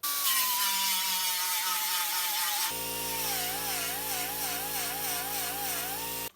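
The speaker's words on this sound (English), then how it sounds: "We'll use a grinder." An angle grinder cuts into the metal of a truck fender, a high whine that steps down abruptly partway through into a steadier, wavering buzz before stopping.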